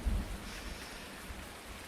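Rain pouring steadily in Farming Simulator 19, a dense broadband hiss with low thunder-like rumbles near the start, loud and continuous with no voices.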